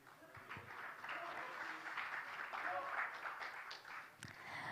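An audience at a plastics export excellence awards ceremony claps continuously throughout, a moderate steady patter with some voices mixed in.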